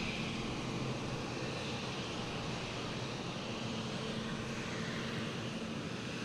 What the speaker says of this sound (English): We got a JetBlue coming in from Fort Lauderdale